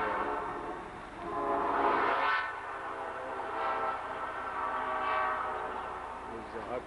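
An express train passes along the Hudson River near an old cemetery, a steady broad rumble rising and falling with several horn blasts, fairly close and continuous throughout.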